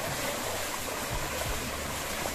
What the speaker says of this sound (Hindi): ये पहला वाला नाला हरे और ये जो पानी आवत है मोला लगत है कुंभ पानी से ही आवत था